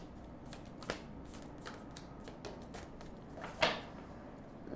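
Oracle cards being shuffled and drawn from a deck: soft, faint riffling and sliding with a few light card snaps, one sharper flick near the end, close up and quiet with no talking.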